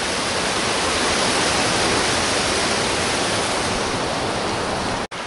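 A waterfall on a stream pours in a steady, loud, broadband rush that stays constant throughout, with a momentary dropout near the end.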